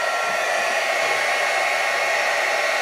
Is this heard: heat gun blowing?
yes